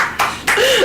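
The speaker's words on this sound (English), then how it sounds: "Clap." A single sharp hand clap from someone in a casual podcast conversation, close and brief, with voices and room noise around it.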